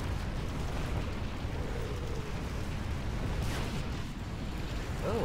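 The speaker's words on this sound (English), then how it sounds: "You can actually see the grenades, the mortars explode in the air." Mortar rounds bursting in the air during a Rise of the Reds real-time strategy battle, a dense continuous rumble of blasts and crackle with no clear gaps, loud and steady throughout.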